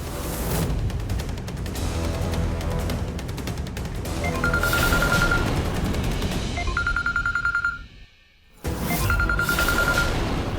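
A phone ringtone repeats in short melodic bursts over loud, dense background action noise, which cuts out briefly before the ringing resumes.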